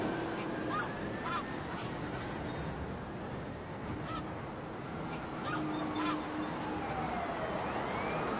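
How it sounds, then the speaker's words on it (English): Migrating geese call in flight over the New York area, scattered honks rising above a constant broad outdoor rush, fairly faint and distant, with no talk. "The geese leave New York behind."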